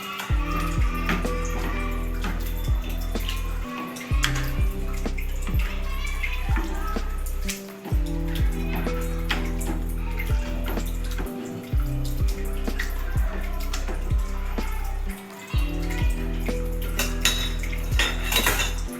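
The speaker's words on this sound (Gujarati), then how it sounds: "અહીંયા મેં બધા જ શાકભાજી મેશ કરી લીધા છે." Cooked vegetables for pav bhaji are mashed in a pan with a metal masher, producing repeated clanking and squelching strokes in a steady rhythm over continuous background music.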